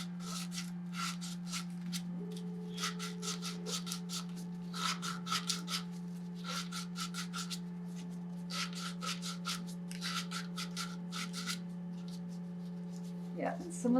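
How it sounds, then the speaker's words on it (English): Knobs being sanded off the ports of a 3D-printed ventilator manifold, heard as bursts of quick rhythmic rasping strokes over a steady low hum, close up and fairly loud. "I'm going to sand off the little knobs"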